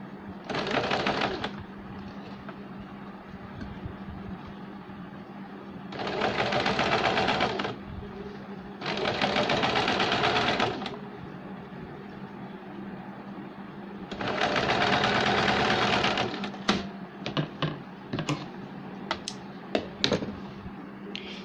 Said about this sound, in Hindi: अब हम इसके आर्म होल को, शोल्डर को नहीं, आर्म होल को और यहाँ नेक की तरफ सिलाई लगाएंगे